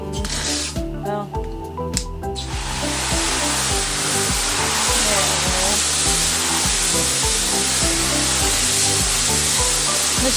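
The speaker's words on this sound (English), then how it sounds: "So I gotta add a little water to this Pro Mix." Water poured from a hose or jug into Pro Mix potting mix in an old mineral tub outdoors, a steady broadband hiss and splash that builds after a brief scrape and holds loud and continuous to the end.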